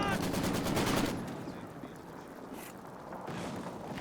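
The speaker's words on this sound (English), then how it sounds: "Machine guns there from the Panzer IV really dishing out the hurt." Panzer IV machine gun fire in Company of Heroes 2 rattles out in a loud, dense burst of rapid shots for about a second, then drops to a lower rumble of distant battle noise.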